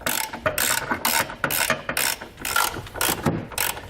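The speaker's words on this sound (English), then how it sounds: "we're going to grab a 14mm socket, and we're going to pull those bolts out" A hand ratchet with a 14mm socket loosening bolts on a 2016 Infiniti QX50 during a trailer hitch install, giving about eight rhythmic rasping clicks in quick repeated strokes, close and loud.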